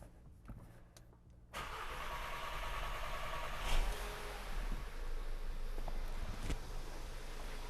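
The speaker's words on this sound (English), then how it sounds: "Let's go ahead and crank this thing on." A 2015 Audi A3 engine cranks after a high-pressure fuel pump upgrade, with some rapid starter whirring before it catches and settles into a steady, fairly loud idle hum with a brief surge partway through.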